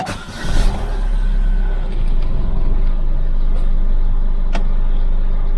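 A Chevrolet Aveo car engine turns over and catches, then settles into a steady, close idle hum.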